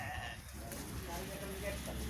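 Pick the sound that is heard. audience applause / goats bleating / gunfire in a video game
goats bleating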